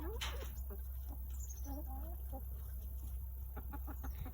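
Chickens clucking on a farm, some of them molting, with a steady murmur of soft clucks over constant background noise and a person talking nearby.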